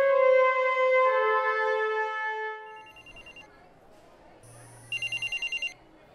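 An electronic telephone ringtone plays loudly as a melodic tone, fades, and then gives way to a short burst of rapid, higher-pitched beeping rings.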